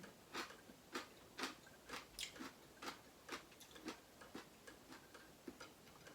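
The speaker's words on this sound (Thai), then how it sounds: "ฟังเสียงเคี้ยวเลย" Crunchy pickled spider flower stems are chewed close to the ear, giving about a dozen evenly spaced crisp bites in a steady rhythm.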